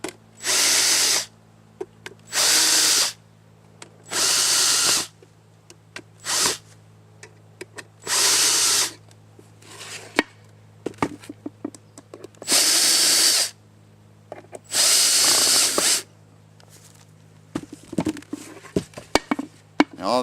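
A power drill drives screws to put together the parts of a wooden bluebird viewing house. It whirs in about eight short bursts of a second or so each, separated by quiet handling clicks and taps.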